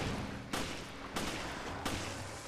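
Gunshots in Resident Evil: Revelations, three sharp, loud shots spaced roughly half a second apart, each a broadband crack with a short decay over a dim background hum.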